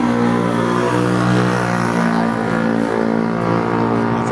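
Steady passing car traffic on the San Simon highway, a continuous loud engine and road drone with no break, close by, with no voices.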